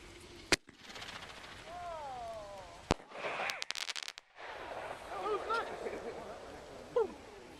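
Fireworks bursting on New Year's Eve in a family backyard: sharp loud bangs and crackles with whistling rising tones, a couple of very loud near reports, and people talking and calling out between the blasts.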